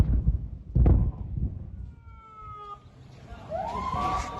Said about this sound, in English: As do the ambulances arriving at Al-Aqsa Hospital.